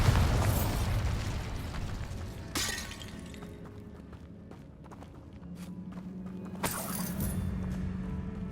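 A Bombarda spell blasting a barricade in Hogwarts Legacy: two sharp bursting cracks with shattering debris, each followed by rumbling and a fading rattle, set against low ambient noise.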